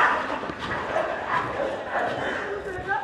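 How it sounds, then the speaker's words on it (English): Dogs bark and yip in a scuffle down on a street in Dum Dum, India, heard from above at a distance, a busy, continuous tangle of barks with general outdoor noise mixed in. "There's another dog gang battle down there."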